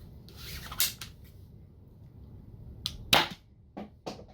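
A toy foam blaster pistol fires an Anemone Mega Dart, giving a few sharp, close snapping pops and clicks with quiet pauses between them, including handling sounds of priming and loading.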